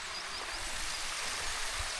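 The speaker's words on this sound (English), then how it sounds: "There's plenty of water coming down, to be fair." Crowden Brook on Kinder Scout in the Peak District rushes steadily with plenty of water, a continuous broadband wash of flowing stream noise heard close and alone, with low wind rumble underneath.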